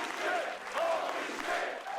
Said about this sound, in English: the crowd is on their feet for the destroyer Josh Briggs